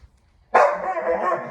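A dog lets out a loud, close bark that rings into a sustained, rough howl lasting about a second, following a brief quiet moment.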